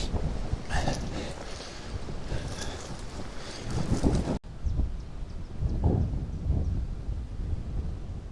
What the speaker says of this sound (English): It's getting windy. It's very windy.